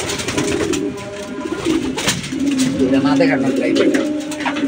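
Racing pigeons coo close by in repeated low, throaty rolls, heard under a man's brief speech.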